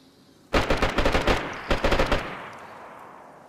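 Automatic gunfire in the video game DayZ, two loud close bursts of rapid shots, the first about a second long, the second shorter, each ending in a fading echoing tail.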